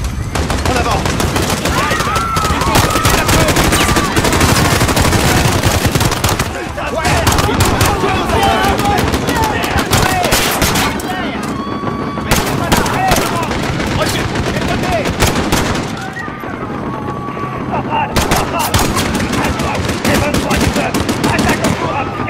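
Gunfire in Call of Duty Modern Warfare video game, with dense, continuous bursts of automatic weapons and scattered shots, loud and chaotic over the whole stretch, with shouting voices faintly mixed in.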